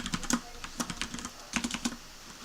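Keys clack on a computer keyboard while form text is typed, in quick irregular bursts of close, crisp taps with short pauses between groups.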